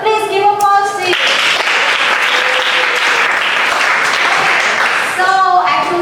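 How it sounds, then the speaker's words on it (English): A class of students breaks into applause in a lesson, a burst of clapping lasting about four seconds, with a teacher's voice talking briefly just before it and again as it fades. "Please give applause to you."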